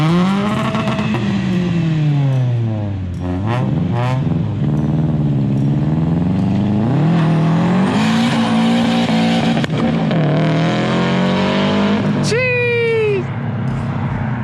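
A 4-wheel-drive Subaru drift car revs hard and passes close, its engine pitch climbing and falling through repeated revs, with a tire squeal near the end and excited voices talking over it.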